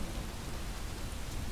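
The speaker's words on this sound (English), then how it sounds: "With this rain, we'll put on the other one" Steady rain in a video game pours down in a dense, even hiss that fills the whole moment without pause.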